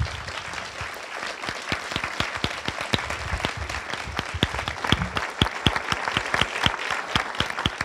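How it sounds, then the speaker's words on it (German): An audience claps after a talk following a screening of the 1965 East German film "Karla", a sustained, fairly close round of dense applause with sharp individual claps that keeps going steadily throughout. "Applaus"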